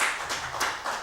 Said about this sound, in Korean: 우리 지연이 한번 박수 쳐주세요